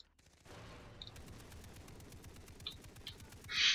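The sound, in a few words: gunfire in the video game Far Cry 3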